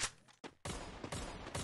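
Gunfire in the mobile shooter Free Fire: loud, close bursts of rapid shots, with a brief pause and then a longer sustained volley.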